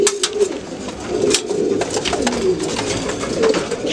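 Pigeons cooing in a loft of fancy breeding pigeons, soft repeated low coos layered over one another, steady and close, with a faint rustle and no talking.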